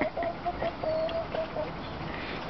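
Hens clucking in a backyard flock: a series of short, moderately close clucks in a loose rhythm over a steady outdoor background, with no talk.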